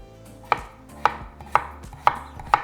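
A knife chops potatoes into half-moon slices on a board, five crisp, evenly spaced strikes close by with no talk.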